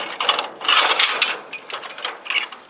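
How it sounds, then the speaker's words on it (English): Trailer tongue jack cranked upward, a quick run of dense metallic ratcheting clicks with the locking pin catching, close and fairly loud, in irregular bursts with short pauses. "you can crank it up to where you want to and the pin will catch"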